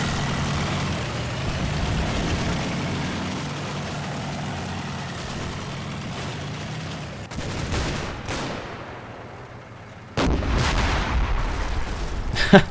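Churchill tank main gun firing in the Combat Mission: Battle for Normandy video game, a single heavy boom near the end over a steady rumbling engine and battlefield background.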